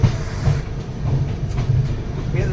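Train moving out of Pratapgarh Junction on the New Delhi - Malda Town Express, heard from inside the coach: a steady low rumble with soft rhythmic wheel clatter, continuous and close, with no clear talk.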